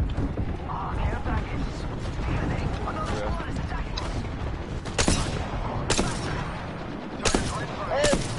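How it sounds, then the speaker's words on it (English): A super saw weapon fires in a ranked video game match, with bursts of rapid mechanical shots and clattering impacts repeating over several seconds while players talk over the action. "He's hitting them with a super saw right now, bro."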